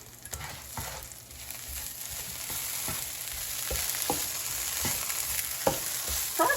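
Fresh okra seasoned with black pepper and garlic powder is stirred in a hot pan, a steady close sizzle punctuated by regular scraping strokes of a utensil.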